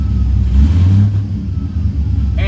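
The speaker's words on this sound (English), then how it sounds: "when I rev this, you're not gonna trip out" A warmed-up Pontiac GTO with a supercharged LSA engine revs through its exhaust: a deep, close rumble swells into a short throttle blip, then settles back to a steady, throbbing idle.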